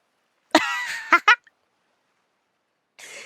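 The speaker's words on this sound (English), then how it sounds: "Stop coughing." A video game character gives a rasping cough followed by two short sharp hacks, then silence and a faint breathy sound after a pause.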